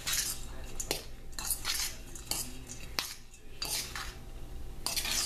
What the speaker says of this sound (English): Mix that all up with a fork.